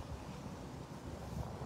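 Wind blows outdoors in a steady, fairly quiet rush, buffeting the microphone with low rumbling gusts and no talk.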